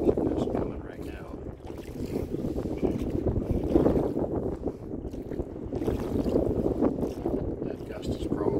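Wind gusting over Smith Creek while rowing, with whitecaps on the water, a sustained rushing wind noise that rises and falls with the gusts, close and fairly loud.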